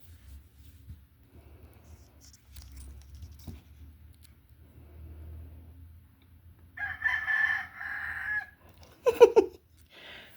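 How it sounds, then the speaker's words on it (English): Rooster crowing outdoors among wild ducks, a single crow in the second half after a quiet stretch of low background noise, followed by a short sharp call. "Let's get one more crow."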